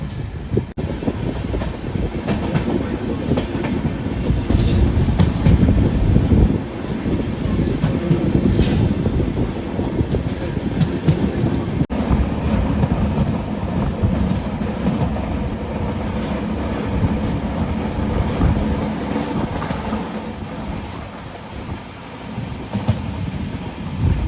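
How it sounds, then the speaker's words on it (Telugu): A new weekly Secunderabad-to-Goa express rumbles steadily along the rails from inside, between Kurnool and Dhone Junction, with rhythmic clatter, occasional squeals of wheels and a constant low roar. "మా ట్రైన్ కూడా కర్నూలు సిటీ నుంచి అయితే బయలుదేరిపోయింది"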